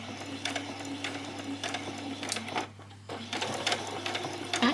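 A sewing machine stitching a bodice is cranked slowly by hand, producing a run of separate mechanical clicks and whirring bursts with a short pause, close and clear.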